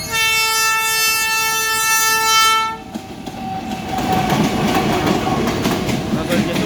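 A train horn blares loudly and steadily for a few seconds, then a train rumbles and clatters past nearby with rhythmic clicking of wheels.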